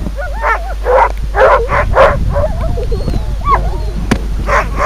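Sled dogs on an outing with their musher yip, bark and whine excitedly in a rapid sequence of close, overlapping calls over a low steady rumble.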